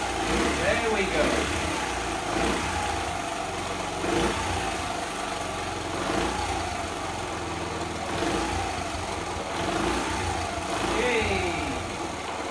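A modified Honda C70 motorcycle engine running on full choke, a steady close idle with a constant drone and periodic rises, while people talk over it.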